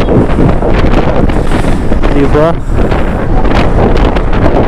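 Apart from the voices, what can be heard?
strong wind at a wind farm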